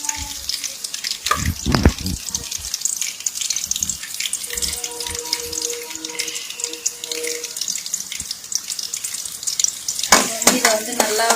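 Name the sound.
garlic and ginger sautéing in a pan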